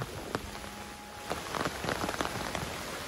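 Heavy rain pours over a quiet village, a dense steady hiss with scattered sharper drop hits, close and continuous with no voices.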